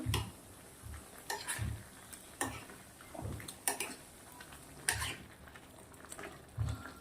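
A spoon stirs paneer gravy with white butter in a pan. Soft scraping clinks repeat about once a second, close and fairly quiet, with no talking.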